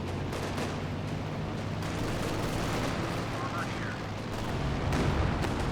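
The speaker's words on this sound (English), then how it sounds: "5P rocket barrage." Rocket barrage from a 5P artillery unit in a Company of Heroes 2 multiplayer battle, a dense rumbling roll of explosions and gunfire that swells toward the end, loud and continuous.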